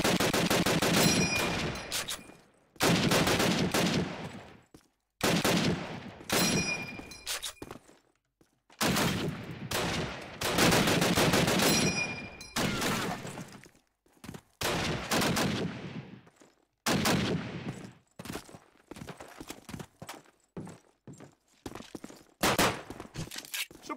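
Machine gun fire in an online multiplayer shooter match: repeated bursts of rapid automatic gunshots with brief gaps, some sharp single cracks, moderately loud and continuing for the whole stretch without speech.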